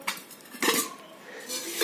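Metal kitchen utensils and pots from a set of cookware, including a three-litre oil kettle, being handled: close, bright clinks and clatters in a few bursts, alone without talk.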